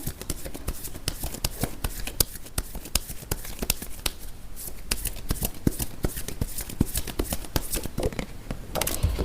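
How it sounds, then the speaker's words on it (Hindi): Tarot cards being shuffled by hand, a dense stream of rapid, crisp card clicks and flutters that continues close-up for the whole stretch without talk. "लेट्स सी कार्ड्स अभी आपके सामने ही शफल करूंगी मैं।"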